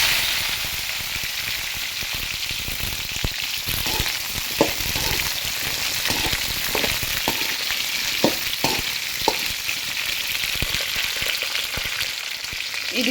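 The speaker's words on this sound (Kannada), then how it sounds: "ಇವಾಗ ಕಟ್ ಮಾಡಿಟ್ಟಿರೋಂಥ ಕ್ಯಾಪ್ಸಿಕಮ್ ಮತ್ತು ಮುಳುಗಾಯಿನ ಇದಕ್ಕೆ ಸೇರಿಸ್ಕೊಳ್ಳಿ." Capsicum and brinjal frying in hot oil with mustard seeds and cumin, a steady close sizzle with scattered small pops and occasional stirring clicks, no talking.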